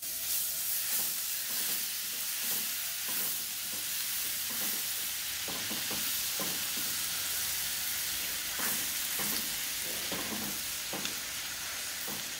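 Chopped onion fries with Kashmiri red chili powder in a pan for butter chicken. It gives a steady, moderately loud sizzle, with intermittent scraping and stirring scuffs throughout and no talking.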